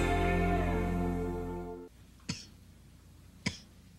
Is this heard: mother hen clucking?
no